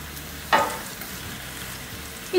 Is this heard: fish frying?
yes